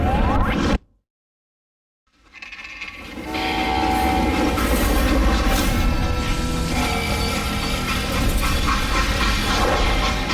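A freight train in the Western shooter Call of Juarez: Gunslinger roars loud and close with rolling clatter after a brief silence, and a horn-like tone rides over the steady rumble.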